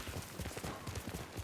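Horse hooves clip-clopping on the ground in Ghost of Tsushima, a quick irregular run of soft thuds heard at moderate distance without talk.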